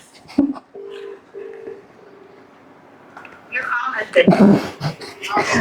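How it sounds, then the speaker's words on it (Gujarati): A phone call is dialed and rings unanswered: a short burst of keypad tones, then a steady repeating ring tone, followed by several people talking loudly and excitedly. "રીતિ ડાંગર ને કોઈ ફોન નથી ઉપાડતી ભાઈ"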